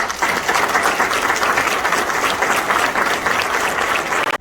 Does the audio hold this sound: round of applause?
yes